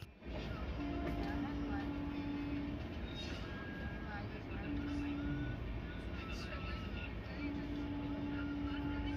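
The Kumbh Express, running from Howrah to Dehradun, passes through Durgapur without stopping, heard from on board as a loud, continuous rolling rumble with a recurring steady tonal hum.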